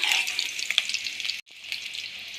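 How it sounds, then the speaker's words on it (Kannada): A tempering of garlic, green chilli and curry leaves sizzles hard in hot oil, poured into sambar; a loud close crackling hiss, briefly cut off before resuming slightly softer. "ಈಗ ನಾವು ಈ ಒಗ್ಗರಣೆಯಲ್ಲಿ ಸ್ವಲ್ಪ ಭಾಗವನ್ನು ಸಾಂಬಾರಿಗೆ ಹಾಕ್ಕೊಳ್ಳೋಣ"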